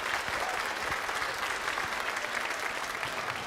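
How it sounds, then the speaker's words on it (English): A crowd claps steadily in dense, sustained applause for young performers at an orchestra concert, with no pauses or talking. "Let's give these kids a round of applause"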